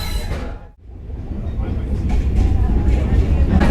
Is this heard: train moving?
yes